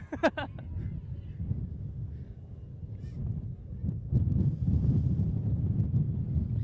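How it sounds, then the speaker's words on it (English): Wind buffets the microphone in low, rumbling gusts that swell louder toward the end, with a brief honking call near the start, outdoors at a women's hockey match. "especially on such a windy day"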